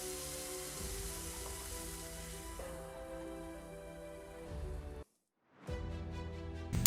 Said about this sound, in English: here I am just charring both sides and adding some bouillon sticks for more flavoring